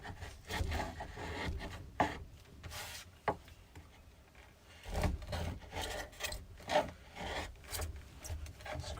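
Rasping scrapes of a tool lifting dried glue off an epoxy and wood side table, several uneven strokes with brief pauses, close and moderately loud.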